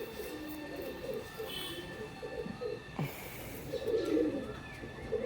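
Pigeons in a pair coo repeatedly at close range, a steady run of soft low calls with a brief sharp noise midway and faint background hum.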